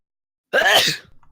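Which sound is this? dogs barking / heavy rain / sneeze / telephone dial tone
sneeze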